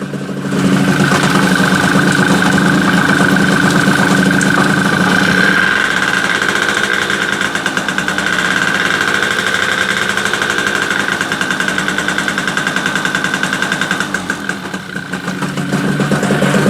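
A small MBK Motobécane moped engine with an open air filter runs steadily and loudly for a long stretch, with a raspy, buzzing intake drone and a slight rise and dip in pitch.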